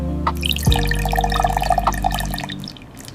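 Scented soy wax is poured into candle containers at a candle-making workshop, giving a close, steady liquid pour with light dripping and splashing that tapers off toward the end.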